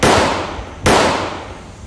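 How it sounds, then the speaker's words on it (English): Two loud gunshots crack nearby in open badlands country, each a sharp blast with a short echoing decay, roughly a second apart. "Firing weapons."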